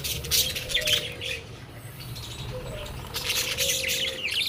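Parakeets chirp and tweet from inside a bamboo nest box, with bright repeated calls clustering in bursts near the start and end over a steady low background hum.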